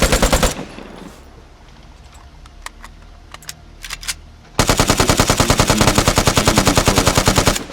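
An AKM rifle fires in the game Vigor: a short automatic burst, a few scattered single shots, then a long, loud, rapid burst of evenly spaced gunshots.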